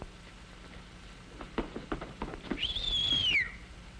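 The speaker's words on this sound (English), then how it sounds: "He is now ready to whistle at the girl to make her angry." A single sliding wolf whistle, rising then falling, comes after a few soft taps and rustles against quiet background noise.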